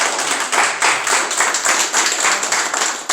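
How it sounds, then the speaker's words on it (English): An audience at a precinct clergy council holiday brunch claps for a police commissioner, a loud, close round of hand claps with rhythmic swells, no talking over it. "Let's give him a hand clap today."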